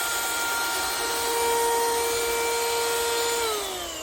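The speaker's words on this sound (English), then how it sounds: "So that's how the vacuum cleaner sounds like" An XREXS handheld vacuum cleaner whirs loudly and steadily, its high motor whine shifting pitch slightly before dropping near the end.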